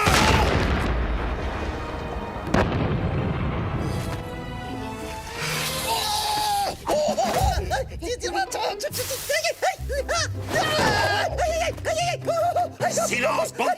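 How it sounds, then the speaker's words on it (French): A cartoon cannon blast booms loudly at the start and rumbles away, then a character's voice takes over and talks through the rest. "Deuxième canon."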